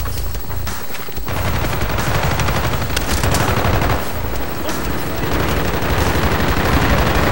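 Rapid automatic gunfire from the Call of Duty Black Ops video game rattles almost without a break, in dense bursts of game shots, with brief speech.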